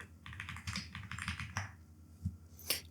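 Typing on a computer keyboard, a close run of rapid key clicks followed by a few spaced single presses, crisp and fairly quiet, with no talking.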